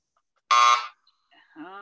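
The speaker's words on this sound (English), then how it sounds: "There's the buzzer." A quiz game buzzer gives one loud, harsh, raspy blast of about half a second, followed after a short gap by a brief voice.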